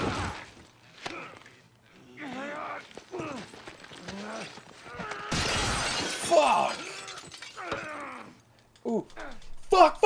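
Glass shatters loudly during a violent fight scene in the video game The Last of Us, a burst of crashing breakage amid shouting voices, grunts and scuffling.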